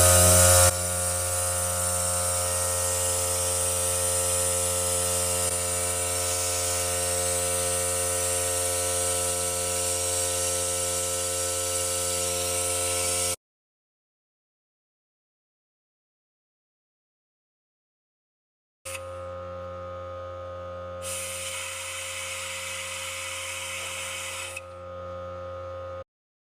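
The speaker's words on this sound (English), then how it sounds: "I'm done sucking all of the old front differential fluid out" A compressed-air fluid extractor pulls old front differential fluid from a Ford F-150 4x4, giving a loud, steady pneumatic hiss with a low pulsing hum. It cuts to silence, then resumes with bursts of harsher air rush.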